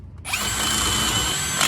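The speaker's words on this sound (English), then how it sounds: "First, I'm gonna drill it with a 1/2-inch drill bit to get that size the right size." A power drill with a 1/2-inch bit spins up abruptly after a brief quiet moment and holds a steady, close, high-pitched whine for more than a second, drilling a Suzuki Samurai steering part.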